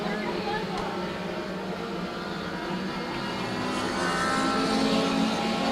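Race cars roar around a racetrack in a steady, loud engine drone that swells slightly toward the end, with a commentator talking over the noise.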